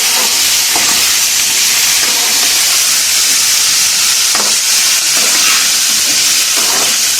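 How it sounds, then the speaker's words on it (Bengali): Sliced green banana and potato frying in a pan give a steady, loud hiss and sizzle with a few brief crackling bursts, and no talk. "এবার এগুলোকে ভালো করে ভাজবো"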